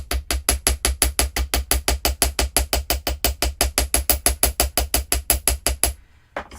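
A wire bangle is struck with a hammer in a fast, steady series of about thirty sharp metallic taps close up, each ringing briefly, then the blows stop and near silence follows.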